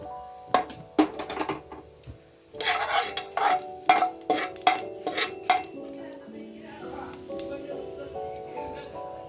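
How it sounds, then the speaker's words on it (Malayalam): Fennel seeds fry in ghee as the base for chickpea biryani, with a spoon stirring and clinking against the pan in a run of sharp taps and scrapes over a soft sizzle. "നെയ്യിൽ പെരിഞ്ചീരകം ഇട്ട് കഴിയുമ്പോൾ"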